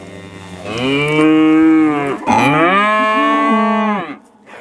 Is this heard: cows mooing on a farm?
yes